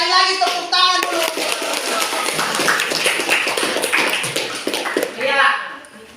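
A class of students in a classroom claps hands in a dense, rapid, fairly loud round that lasts several seconds, with a few voices mixed in.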